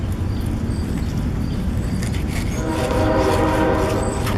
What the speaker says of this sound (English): And there's a train coming through.